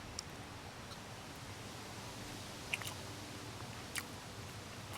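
Someone chews a bite of Jamaican saltfish with ackee, faint soft mouth sounds close to the mic, with a couple of small wet clicks against a quiet hiss.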